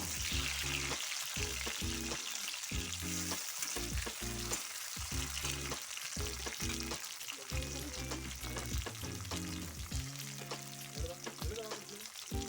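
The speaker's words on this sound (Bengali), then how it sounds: "এবারে টমেটো কুচিগুলো তেলের মধ্যে দিয়ে দিলাম।" Chopped tomatoes fry in hot oil for a chicken dish, giving a continuous, fairly quiet sizzle and crackle that lasts throughout.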